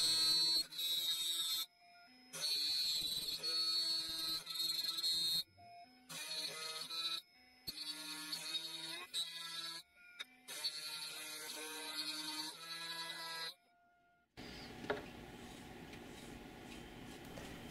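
A Wegstr CNC prototyping mill cuts out a circuit board, its spindle whining in long steady bursts separated by brief pauses as the tool moves between passes, ending in a different broadband noise.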